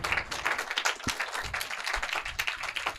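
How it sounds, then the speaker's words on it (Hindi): Audience clapping in a school hall to welcome the chief guest, the school principal, at a seminar; a steady patter of many hands sustained throughout, fairly faint. "उनके लिए तालियों से स्वागत करेंगे।"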